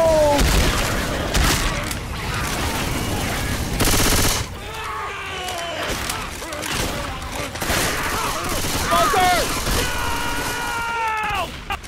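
Chaotic Left 4 Dead 2 combat with rapid gunfire bursts, a loud whooshing burst of Molotov fire, and shrill infected cries, all loud and dense under shouted player voices.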